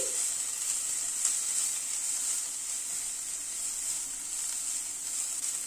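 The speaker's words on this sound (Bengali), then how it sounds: "আদা কুচিটাও পেঁয়াজের সাথে একটুখানি হালকা করে সতে করে নিচ্ছি" Chopped ginger and onion sauté in a pan, giving a steady close sizzling hiss that holds evenly throughout with only faint stirring touches.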